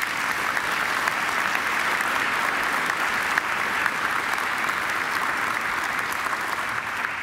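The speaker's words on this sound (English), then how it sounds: "I think she deserves another great round of applause." An audience at a Macquarie graduation ceremony gives a sustained round of applause, a dense, even wash of many hands clapping at steady volume from start to finish.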